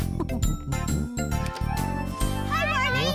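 A bright tinkling chime tune plays a quick run of notes, with a voice and warbling tones mixed in toward the end.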